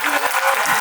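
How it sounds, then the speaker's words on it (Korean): A packed Busan International Film Festival audience at a guest talk for the film Broker lets out a loud burst of cheering and applause that fills the hall. "진짜 부산 영화제 팬분들이 다 모이니까 이 정도의 함성이 나오는군요"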